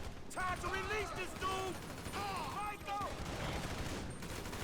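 Gunfire in Grand Theft Auto V: rapid bursts of automatic weapon shots with mechanical clatter, fairly loud and continuous over several seconds, mixed with other game sounds.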